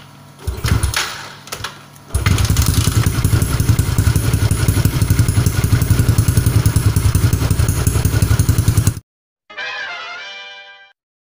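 A Yamaha LC 4S motorcycle exhaust gives a few short revs, then a long, loud, sustained high rev close by, which cuts off sharply before a brief final burst.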